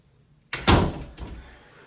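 A new basement door at the top of the stairs swings shut with a close, solid thud, followed by a softer latch click and a short fading rattle in a quiet house.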